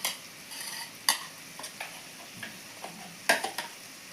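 Tamarind paste goes into a sizzling capsicum masala curry and is stirred, giving sharp spoon scrapes and clicks over a faint background sizzle, quiet and close.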